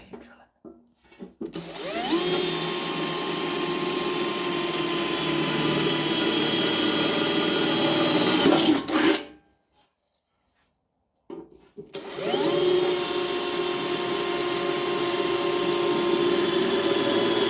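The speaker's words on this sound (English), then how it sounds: "You're drilling." A power drill bores holes through the steel body panel of a rusty 1974 Mk3 classic Mini. It makes two long, loud whining bursts with a short silent pause between them, each spinning up sharply.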